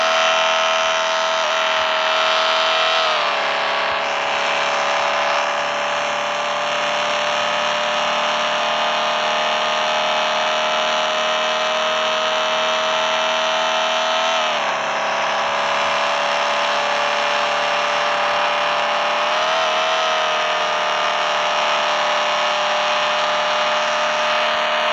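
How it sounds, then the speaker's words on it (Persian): Car engine held at high revs during a 360-degree drift, a loud, steady droning whine that dips briefly in pitch a couple of times before climbing back, with no voices. "بریم صدای ماشین گوش بدیم."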